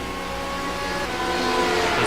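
LMP1 prototype race cars at the Le Mans 24 Hour sweep past, a steady engine roar that swells gradually louder over two seconds as they approach.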